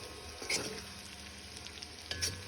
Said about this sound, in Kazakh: Пиязды қуырды, енді кішкене сәбізді қосып жіберемін.